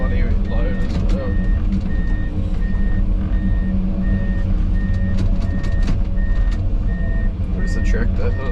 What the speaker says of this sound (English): truck coming, he's got a bloody load as well.